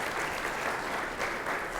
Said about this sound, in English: so clap if you guys got it right